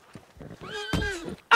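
Horse in a Spanish-language roleplay video game giving a short, close whinny with a rising and falling tone, set among soft scuffling and hoof-like knocks, with a louder sudden sound at the very end.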